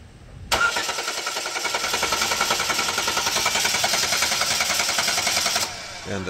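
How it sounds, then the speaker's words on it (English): A car starter motor spins as its two terminals are jumped with the car in park: a loud, steady, fast-pulsing whir that runs for about five seconds without stopping, with no spoken voice. "If you jump those two terminals, even if the keys are not in the ignition, the starter will start spinning if it's not defective."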